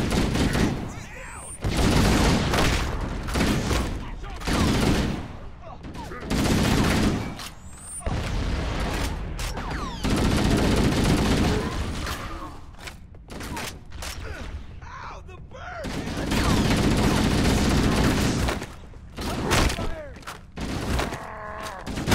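Gunfire in Halo: Combat Evolved on the Pillar of Autumn, repeated loud bursts of automatic fire and booming impacts in clustered volleys with short pauses, while voices talk over the fighting.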